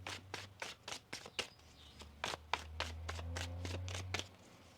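Tarot cards riffled and shuffled in a quick series of crisp bursts, close and fairly quiet, with a low hum underneath.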